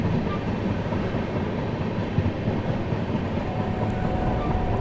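Steady rumbling roar of a train running on rails near a goods train, a continuous dense rolling noise with faint rhythmic clatter, loud and close throughout.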